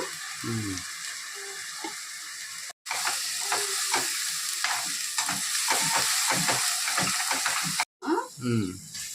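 Chicken with spices for a chicken curry sizzles in a pan amid repeated scraping stirs, while a voice talks intermittently over the frying.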